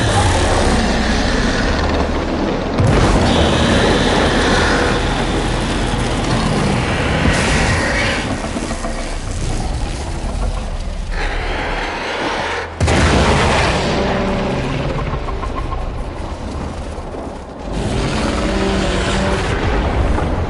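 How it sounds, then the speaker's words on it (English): Explosions in the game Warframe rumble loudly in a long, heavy sequence of booming blasts and grinding debris, with sharp new impacts striking at intervals over a constant roar. "There should be useful detritus falling from the explosion."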